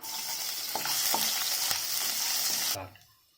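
Garlic, chilli and ginger sizzle loudly in a hot pan while a utensil stirs and scrapes, a few clinks punctuating the frying before the sizzle abruptly cuts off.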